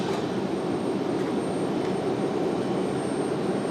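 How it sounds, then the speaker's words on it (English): A United Boeing 737-900 departing Raleigh-Durham for Newark makes a continuous jet engine rumble and hiss, even and moderately loud throughout the short stretch, with no talking. "So United 1205 off to Newark, New Jersey"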